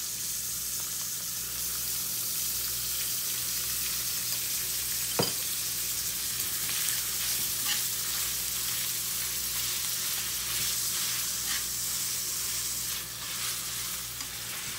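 Ground pork sizzles steadily in a pan for Filipino-style macaroni spaghetti, a constant close frying hiss with faint scrapes of stirring and one sharp clink midway, and no talking.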